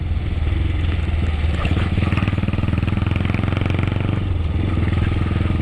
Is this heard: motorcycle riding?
yes